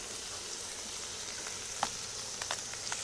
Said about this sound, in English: Some of Dawn's famous whole wheat pancake mix.